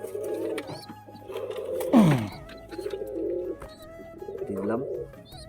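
Pigeons in a coop coo in soft, throaty, repeated phrases, close by, with one brief sharper rising call in the middle and faint background noise.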